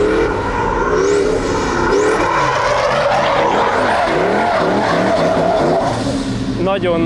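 Loud, continuous tire squeal from a Toyota Soarer UZZ30 race car drifting sideways, with the engine revving throughout and a voice talking underneath.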